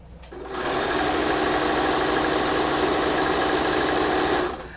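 A sewing machine stitches a border onto an appliqué quilt in one continuous, even, close run of rapid mechanical hum and clatter that starts and stops cleanly.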